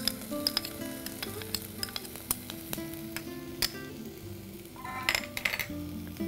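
Finely chopped tomatoes sauté in a pan, a soft sizzle broken by frequent sharp clinks and scrapes of a spoon stirring against the metal.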